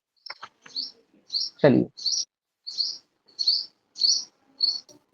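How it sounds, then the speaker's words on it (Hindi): Small birds chirp in a steady series of sharp, high tweets at regular intervals, fairly close and clear, with a brief spoken word near the start. "कितना चिड़िया चीखे हो रहा है यार।"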